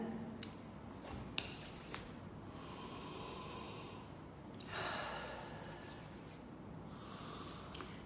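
Slow, deep nasal inhalations of essential oil from a roller ball held over the heart, three long close breaths separated by quiet pauses, with no talking.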